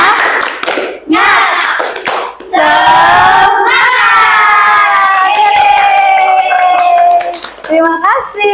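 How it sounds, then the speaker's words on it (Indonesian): A class of schoolchildren performs a rhythmic spirit clap, with loud, close bursts of hand claps and shouted chanting voices that rise and fall in short phrases. "Tepuk semangat."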